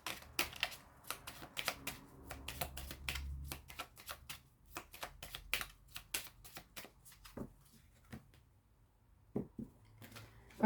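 Angel oracle cards being shuffled by hand, a dense run of quick close clicks and card slaps that thins toward the end into a few separate taps.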